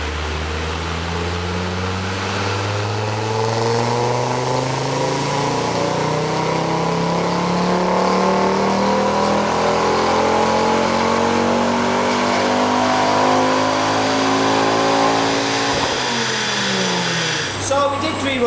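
A 150,000-mile Mk2 Ford Focus RS with a rebuilt engine roars loudly and continuously through a dyno power run, its pitch rising steadily before it drops off near the end.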